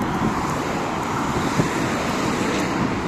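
Strong wind roars steadily against the microphone, a dense, continuous rush of noise with no voices heard.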